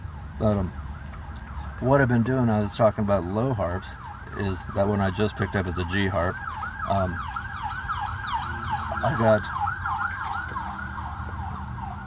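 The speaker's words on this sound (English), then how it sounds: "don't know if you could hear that ambulance going by" A wailing ambulance siren sweeps up and down in the background, rising and fading as it passes, while someone talks over it.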